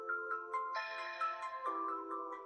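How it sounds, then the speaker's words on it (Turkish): A QCY Watch GT2 smartwatch's find-phone feature sets the phone ringing with an electronic ringtone melody of bright, shifting tones. It plays steadily and clearly, with no voices over it. "böyle bir melodiyle görmüş olduğunuz gibi telefonumu bulabiliyor"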